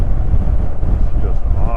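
Wind roar buffets a rider on a 2019 BMW R 1250 GS motorcycle at highway speed, a loud, steady rushing blast close to the helmet mic, with a voice speaking over it.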